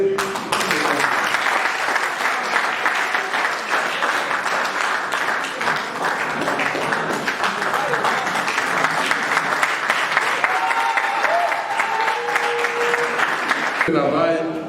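Sustained applause from an assembly gathered for a New Year's greetings exchange with a president, dense clapping filling the hall for about fourteen seconds before stopping abruptly, with a few voices heard underneath.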